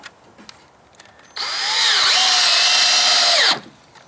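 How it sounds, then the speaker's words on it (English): A power drill whirs loudly for about two seconds, pitch dipping as it drives a screw into pallet wood, then stops; quiet before and after. "You can stick your drill right in the center of the pallet."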